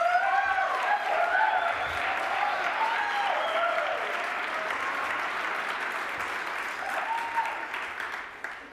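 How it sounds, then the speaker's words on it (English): An audience applauding Jonathan Fields, a television and film composer, at the New York Encounter 2023 event, with sustained loud clapping that gradually tapers off, accompanied by a few voices and cheers. "Please give Jonathan a round of applause."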